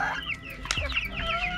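Rhode Island and native chickens kept together in one coop cluck in quick, close bursts, with one sharper squawk midway and overlapping bird calls throughout.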